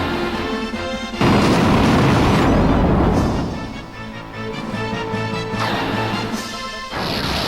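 Fire magic spell cast against flan enemies in the PSP version of Final Fantasy 2, a loud crashing burst that swells and rumbles for several seconds, followed by softer game effects and a second burst near the end, with no talking.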